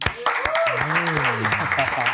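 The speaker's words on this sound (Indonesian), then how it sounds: "Tepuk tangan buat Adi Adrian." A small studio group gives a few scattered handclaps for keyboardist Adi Adrian of Kla Project, sharp and close but sparse, running under someone speaking throughout.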